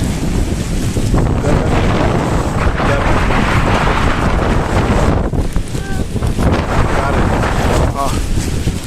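Strong stormy wind over a rough sea on the Kerala coast, a loud continuous roar of buffeting wind and crashing surf pressing against the microphone, with brief faint voices.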